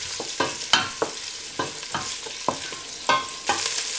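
Onions sautéing in melted margarine in a pot for a potato and broccoli soup, a steady close sizzle broken by repeated sharp scraping stirs at an even rhythm, with no voices.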